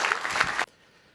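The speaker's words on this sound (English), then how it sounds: "I think the audience should give you a big round of applause." Brief burst of audience applause for event MCs at a tech demo gathering, dense clapping that cuts off abruptly after about half a second, leaving near silence.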